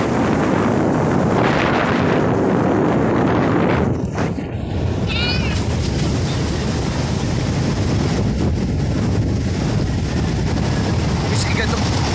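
Strong wind roars and buffets the microphone throughout a road trip, loud and continuous, with brief gusty dips and faint voices underneath.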